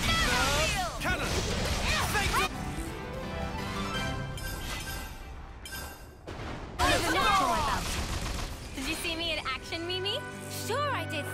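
Booming cannon blasts and crashing impacts from Xenoblade Chronicles 3 mix with shouted voices and bursts of music-like effects, loud and busy throughout.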